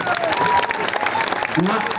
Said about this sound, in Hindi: तो बजाइए जोर से ताली